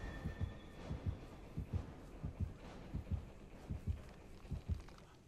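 A killer's heartbeat warning from the game Dead by Daylight thumps in low, steady double beats, about a dozen pulses at a regular rhythm, fairly quiet, with no talk over it.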